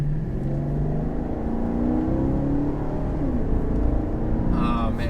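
A 2011 Maserati GranTurismo S MC engine accelerates from inside the cabin, a steady loud drone with rising harmonic tones, while people talk excitedly over it.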